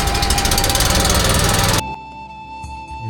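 A boat engine on the Narmada at Omkareshwar runs as a loud, rough, rapidly knocking motor that cuts off abruptly partway through, leaving a quieter low hum and faint background sounds.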